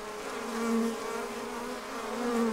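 Honey bees buzz inside a hive during a queen introduction, a dense steady hum that rises and falls slightly and sits close and fairly loud, with no voices.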